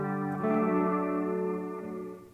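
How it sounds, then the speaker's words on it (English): An electric guitar chord rings through a LEKATO Tank-G effect pedal set to a spacey reverb, sustained and swelling slightly before slowly fading, with no talking. "Pretty spacey kind of reverb."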